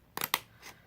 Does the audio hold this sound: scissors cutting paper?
yes